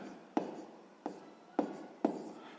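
Pen or chalk strokes while a sixth-grade math solution is written out, four sharp taps about half a second apart, each trailing into a short scratch, close and fairly quiet with no talk.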